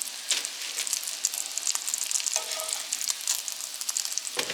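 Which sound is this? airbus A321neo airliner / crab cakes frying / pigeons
crab cakes frying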